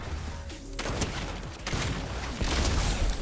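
Gunfire in the Fortnite video game: a few sharp, loud shots crack over a steady background rumble, with gaps of roughly a second between them.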